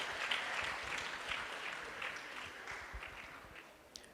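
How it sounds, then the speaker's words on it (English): A temple audience claps to welcome a guest speaker, a steady, soft, dense patter of many hands heard from a distance that slowly thins toward the end. "So let's give a big round of applause in welcoming Anand Gaurang Prabhu."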